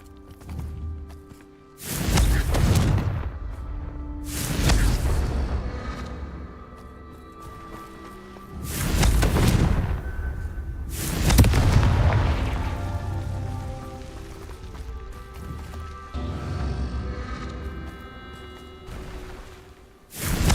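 Fire spell blasts in Hogwarts Legacy: a series of five heavy, booming explosions a few seconds apart, each with a loud burst followed by a rumbling decay.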